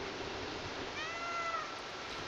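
A black cat meows once in the video game Stray, a short rising-and-falling call midway through over a steady hiss of background noise, fairly quiet and alone.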